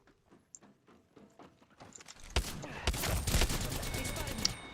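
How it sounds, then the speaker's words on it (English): Enemy gunfire in a video game, starting with scattered sharp clicks and shots, then swelling into a loud, sustained volley of overlapping gunfire. "The enemies are shooting."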